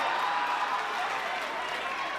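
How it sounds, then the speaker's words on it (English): Steady crowd applause and cheering for the DJ fill the room at a comedy show, a continuous even wash of clapping at moderate volume with no voice on top. "Clap for him."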